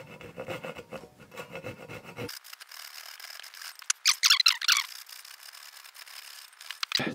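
Rasping, scraping hand-saw strokes cutting wood for a carpentry joint, irregular and fairly close, with a few sharper squeaky bursts midway.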